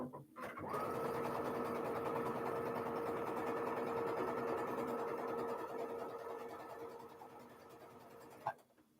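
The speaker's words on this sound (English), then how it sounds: "I'm going to match up those and start sewing." A sewing machine stitches half rectangle triangles for a stretched star quilt block, running as one steady, close, even hum for several seconds before stopping with a small click.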